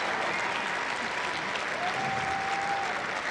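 Crowd applauding steadily at a Greco-Roman wrestling match between national teams at the 2013 Combat Games, a dense wash of clapping throughout with a faint whistle-like tone partway through.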